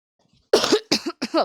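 Three quick coughs close by, the first the strongest, each a short harsh burst separated by brief pauses.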